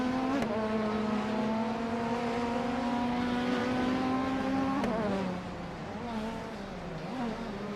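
A 1991 Nissan Primera P10 race car engine in a racing video game holds a high steady whine, drops sharply on a gear change near five seconds, then carries on lower and softer.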